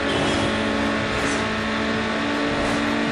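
Hyundai Tiburon GT racing in Need for Speed Underground in sixth gear, its engine a steady loud drone with passing traffic and rushing wind, continuous throughout with no speech.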